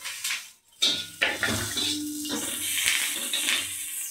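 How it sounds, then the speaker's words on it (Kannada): Green chilli and other ingredients dry-roasting in a metal pan in a village kitchen, with repeated scraping and clattering of a spoon against the pan and a soft steady sizzle underneath, close and fairly loud, with no talking. "ಇದನ್ನೆಲ್ಲ ಹುರ್ಕೊತಾ ಇದ್ದೀನಿ ಇವಾಗ"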